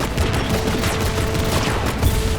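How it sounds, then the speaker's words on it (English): A heavy machine gun fires in the video game Destiny 2, a sustained, dense barrage of rapid shots that rattles on steadily and loudly without a break. "heavy metal machine gun that fires according to its own rhythm"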